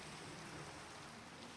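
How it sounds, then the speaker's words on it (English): Rain falling in Minecraft, a soft continuous hiss of steady rainfall with no breaks, faint and alone. "I really wish it wasn't raining right now."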